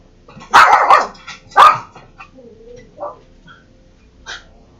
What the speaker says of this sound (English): Dog flipped out.